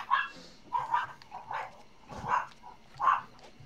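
A dog in the Sly 2 video game gives about five short, separate barks at a fairly even pace, moderately loud and alone.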